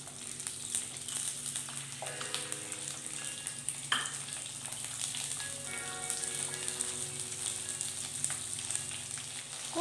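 Onion and ginger fry in hot oil with spices for a broad bean gravy, a soft continuous sizzle and crackle, fairly quiet and steady, with brief faint clinks and no speech.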